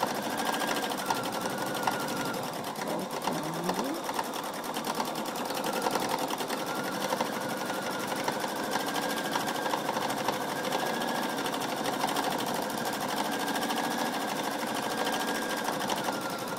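A Pfaff sewing machine stitching a quilted feather design with glossy embroidery thread runs in a steady, close, continuous hum and rapid needle chatter throughout, with no talking.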